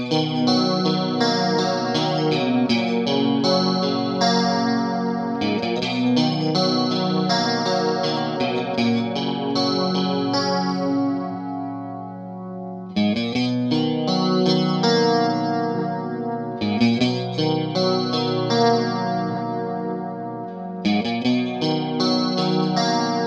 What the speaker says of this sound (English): now the dimension chorus